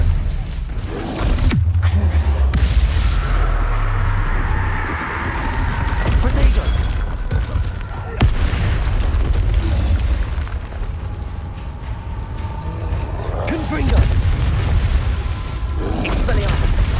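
Spell explosions from the Hogwarts Legacy video game, Bombarda and Confringo, loud booming bursts and crashes in rapid succession over a dense game soundtrack, with shouted incantations mixed in.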